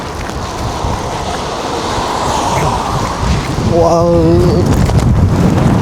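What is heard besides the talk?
strong gale-force wind in Japan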